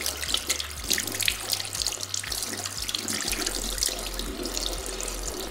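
A tap runs steadily into a sink while soap is rinsed off hands, a close, continuous splashing stream with no talking.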